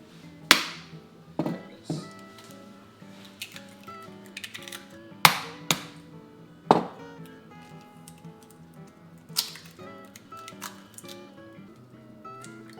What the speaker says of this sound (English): So now that we have our eggs cracked, we're gonna add them in.